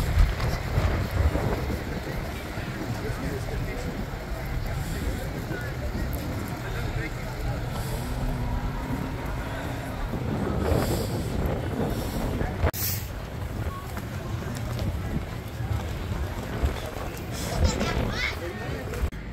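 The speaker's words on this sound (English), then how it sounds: "The wind was so bad, in fact, it was picking up the sand and blowing it and drifting it." Strong gusty wind at Sand Hollow Park, Utah, buffeting the microphone with a constant low roar while blowing sand, with people talking through much of it.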